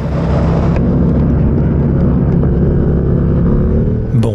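Yamaha R7 motorcycle at speed on a race track during an R7 Cup weekend, recorded from an onboard helmet camera: a loud, steady engine drone with wind roar throughout, the pitch shifting briefly near the end.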